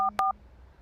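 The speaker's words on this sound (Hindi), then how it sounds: "हैरान माली पुलिस को फोन लगाता है।" Two quick telephone keypad tones, a short pair of dialing beeps as a call is placed to the police, followed by near silence.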